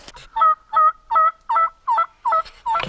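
Wild turkeys gobble in a forest, a close, loud run of about seven evenly spaced calls in a steady rhythm against near silence.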